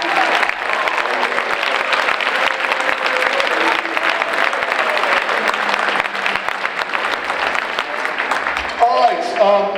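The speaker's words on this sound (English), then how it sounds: "Let's give them a round of applause, please." Enthusiastic audience applause for high school band students at a farewell concert, dense steady clapping filling the hall for several seconds before tapering at the end.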